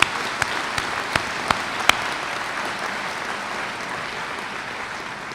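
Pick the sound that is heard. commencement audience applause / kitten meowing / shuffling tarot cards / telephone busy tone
commencement audience applause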